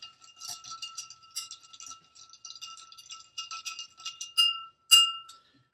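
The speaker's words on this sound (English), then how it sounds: "So we'll stir this with ice." Ice cubes stirred in a glass for a bourbon Old Fashioned with black walnut bitters: a steady series of light, bright clinks and rattles, growing into a few sharper knocks toward the end, with no talking.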